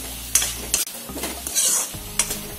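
Jute leaves (morapat shak) fry in a pan over low heat for an Assamese dish, giving a steady close sizzle broken by several scraping stirs of a spoon against the pan.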